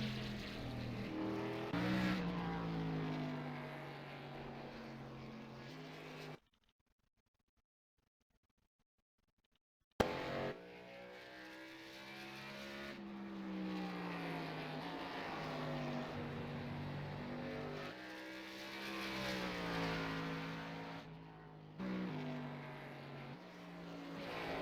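National stock cars racing at Bristol short track in the iRacing sim, engines roaring and sweeping in pitch as cars pass, with tire squeal; a few seconds of silence cut the loud engine noise.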